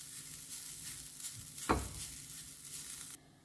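Oil with a spoonful of turmeric frying on a low flame for crab sukka, a steady soft sizzle with one brief scrape of stirring partway through, then cutting off quietly.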